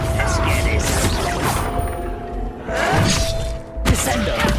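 In Hogwarts Legacy, a Descendo spell slams objects down with a few sharp crashes and thuds, including a sudden shattering impact near the end, over game ambience and a talking player.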